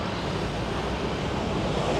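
Strong ocean waves surge and churn at a Maldives shoreline, a dense continuous roar of surf mixed with wind buffeting the microphone, steady and loud throughout with no talking.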